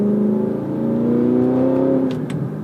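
A high-mileage manual Audi R8 engine revs and engine-brakes during downshifts, a loud, close, steady harmonic drone that rises and falls, with two brief sharp blips near the end.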